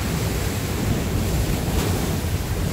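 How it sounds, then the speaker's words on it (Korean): Large sea waves breaking along a rocky Korean shoreline at Songjeong, a steady loud rush of surf and wind noise throughout with no voices. "또파도가큰게하나가더옵니다"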